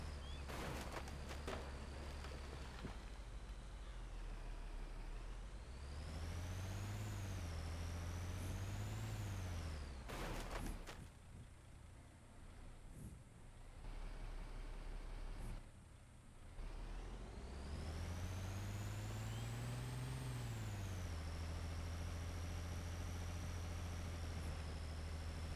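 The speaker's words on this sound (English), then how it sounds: "The engine sounds like it's trying to blow up." A truck engine in an A2 setting strains and revs, its pitch rising and falling in long sweeps, with a sharp air brake hiss midway and steady loud mechanical drone throughout.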